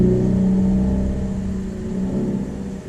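A car passing close by outside during an oil change on a RAV4, its steady engine rumble and whir loud throughout, fading slightly toward the end, with no talking.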